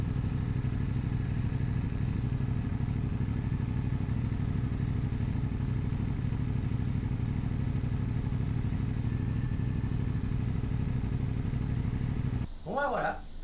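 A motorcycle rides along a road in South Korea, its engine droning steadily and loudly for the whole stretch with buffeting wind noise, before a brief clatter near the end.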